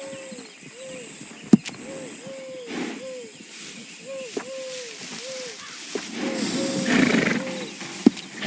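A horse in Red Dead Redemption II at a livery, with a string of repeated whinnying calls and snorts, scattered hoof knocks and clops, and a brief rustling, clattering stretch near the end.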